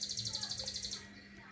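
A young sooty-headed bulbul (trucukan) chick making a rapid series of high, thin chirps close by, quickly repeated over a low background hum, then fading out.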